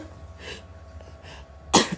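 A person sneezes once, sharply and close up, near the end. Faint breathy sounds and a low background hum come before it, and no one speaks.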